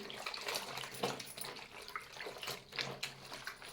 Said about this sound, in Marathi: आता हा टॉवेल पूर्ण पाण्यामध्ये ओला करून घ्यायचा आहे